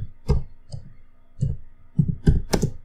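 Keys tapped in the Windows search box on a computer keyboard: a handful of separate clicks with uneven gaps, fairly close and clear, bunching into a quicker cluster near the end, with no talk.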